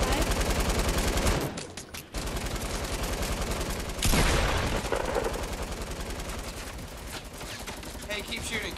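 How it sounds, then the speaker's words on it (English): Rapid automatic gunfire in an online shooter game rattles in sustained bursts with short pauses between them, while players talk over the shooting. "Hey, keep shooting, just keep shooting."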